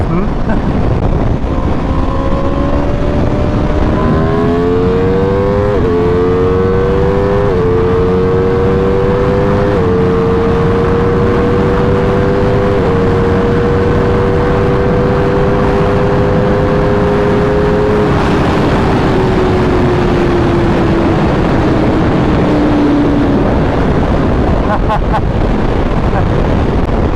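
A 2020 Aprilia 1100 Factory motorcycle on the move, its engine note climbing through several gear changes and then easing off, heard close under steady heavy wind roar.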